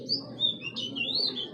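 A female racing pigeon makes a short run of thin, high chirping calls, close and fairly clear over low background hum.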